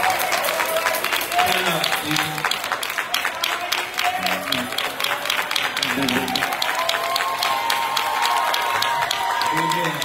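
An audience at a state assembly evening session breaks into sustained applause, a dense steady clapping that fills the room, while someone speaks over it.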